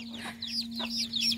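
Young chicks peep in a quick run of high, thin chirps, close and fairly clear over a steady electrical hum, with no voices.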